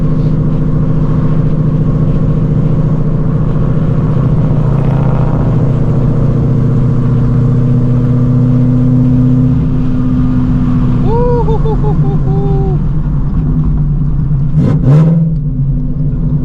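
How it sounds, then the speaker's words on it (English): A loud exhaust from a modified 800-horsepower Ford Shelby GT350 drones and rumbles steadily close by, rising as the car accelerates, with a brief sharp burst near the end and a voice faintly underneath. "With the windows all the way down with this exhaust setup because it is incredibly loud."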